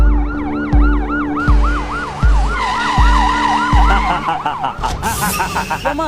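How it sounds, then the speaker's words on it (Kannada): An ambulance siren wails loud and close in a steady rising-and-falling pattern, with heavy low thumps at regular intervals beneath it. The tone shifts into a faster warble near the end. "ಆಂಬುಲೆನ್ಸ್ ಅಲ್ಲಿ ಆಸ್ಪತ್ರೆಗೆ ಕರ್ಕೊಂಡು ಹೋಗ್ತಿದ್ದಾರೆ ಅಷ್ಟೇ"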